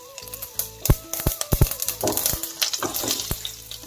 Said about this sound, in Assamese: সৰিয়হ খুব ফুটিছে